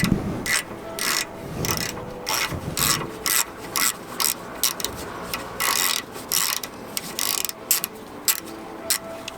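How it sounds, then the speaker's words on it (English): A 13mm socket on a ratchet works rusty bolts loose during a towing bar install on a Range Rover P38, giving a long run of close, rapid ratchet clicks in irregular bursts with no speech. "Only option is basically to remove these 4 bolts, to take them out."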